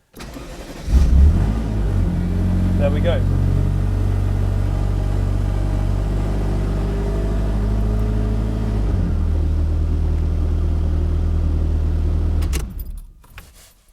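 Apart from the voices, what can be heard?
Ferrari F40 engine starting and idling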